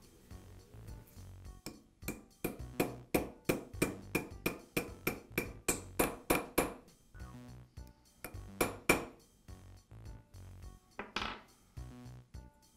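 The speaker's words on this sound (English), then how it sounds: "I'll place it over the armature shaft and use a socket to tap it into place." Metal socket tapping a new bearing onto an electric motor's armature shaft during a Makita power scraper repair, a quiet run of sharp rhythmic metallic taps with a few scattered clinks after.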